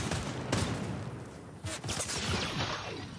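Gold gun gunfire in a multiplayer shooter video game, a dense steady barrage of shots and impacts that runs continuously without pause, loud and busy throughout.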